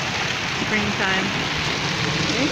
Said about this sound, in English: We're getting a good hailstorm.